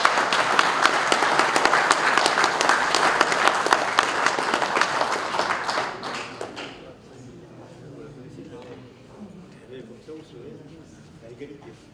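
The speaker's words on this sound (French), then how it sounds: "On peut les applaudir bien fort." Hearty applause from an audience at a club's annual general meeting in a hall at St Gervasy, dense and strong for about six seconds, then dying away into low crowd murmur and shuffling.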